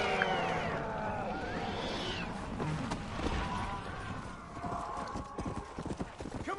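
Horse hooves clip-clop in Red Dead Redemption: Undead Nightmare over steady game sound and music, with a horse whinny and a voice talking over the ride.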